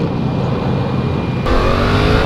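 A 2016 Yamaha FZ-07 naked motorcycle's engine pulling hard from low revs, a loud close rumble that swells as the bike accelerates, with steady wind noise behind it.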